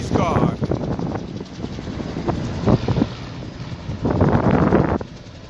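A helicopter lifts its skids off the ground and kicks up a sandstorm, with gusty wind-like rotor wash and blasts of blowing sand surging in bursts, while someone talks over it.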